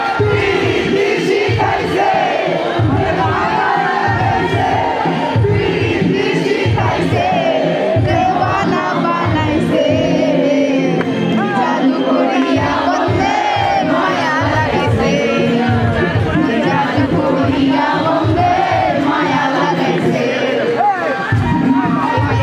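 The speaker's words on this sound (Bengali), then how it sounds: "এখানে সবাই মিলে এত ভিড় করছে যে মনে হইতেছিল এটা একটা কনসার্ট" A dense crowd at a free concert at a fair cheers and shouts continuously. The roar is loud and steady throughout, with whoops and babble layered in and no break.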